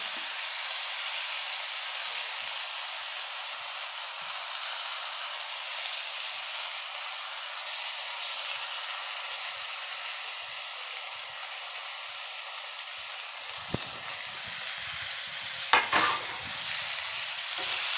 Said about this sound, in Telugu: ఇగో టమోటాలు కూడా వేసేస్తున్నాను